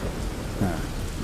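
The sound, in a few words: pouring rain with thunder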